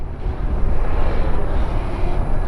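Steady loud rumbling and wind roar from a 72-volt electric mini bike being ridden, a continuous broadband whoosh with no voices.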